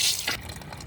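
Water runs from a garden hose into a car radiator during a coolant flush, a brief, quiet splashing gush that fades quickly.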